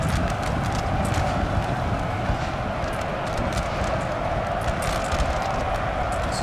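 Dense, steady galloping hoofbeats from many cavalry horses in the video game Napoleon: Total War rumble continuously, a thick, loud mass of clattering hooves with no pauses.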